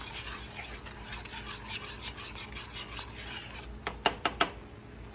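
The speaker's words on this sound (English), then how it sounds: "Give that a nice stir and mix it up." A spoon stirs a honey lemon sauce with oregano and lemon juice in a pan, giving a steady close scraping swish, then a few sharp clinks of metal against the pan near the end.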